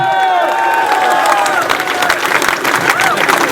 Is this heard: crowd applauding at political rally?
yes